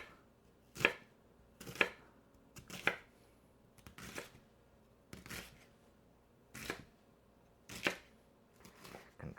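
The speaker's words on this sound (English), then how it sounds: "now I'm just gonna slice my pieces very thin" A knife slices fennel very thin on a cutting board, eight or so crisp, separate cuts at a steady, unhurried rhythm, close and clear with quiet pauses between strokes.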